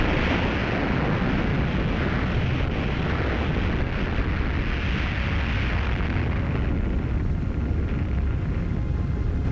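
A nuclear bomb detonation at Bikini Atoll during Operation Crossroads: a loud, sustained, broad roar rumbles unbroken from start to finish, with no voices.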